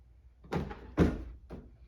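A folding tray table on a Honda CR-V tailgate folds down, giving two close plastic-and-metal clunks about half a second apart, followed by a softer knock.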